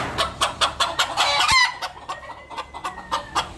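Chickens in a coop clucking in a rapid, regular series of close, sharp calls, with a short squawk partway through and a faint high whistle-like tone in the background.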